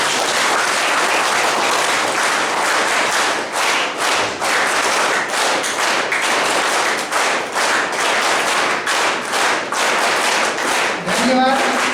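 An audience clapping to welcome guests at a college lecture-series event, loud close-up applause with distinct individual claps in uneven bursts over about twelve seconds, a brief voice rising near the end.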